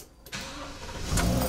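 A motorhome engine cranks and catches, then settles into a rising, steady idle close by, with no talking over it.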